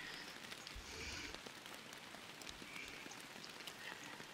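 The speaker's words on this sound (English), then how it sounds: "Man, it's raining here." Rain in the fishing game Fishing Planet, a faint continuous patter of drops falling on surfaces, steady and even throughout with no voices over it.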